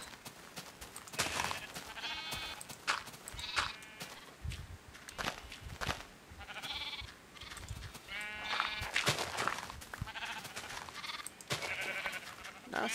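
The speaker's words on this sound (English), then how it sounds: "Sheep!" Sheep in the Minecraft video game bleat repeatedly in short wavering calls, mixed with soft blocky footstep sounds and quiet game ambience.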